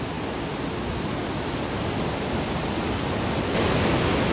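The Bhaise Khola stream flowing, a broad, steady rush of water that fills the scene evenly and grows slightly louder near the end, with no voices.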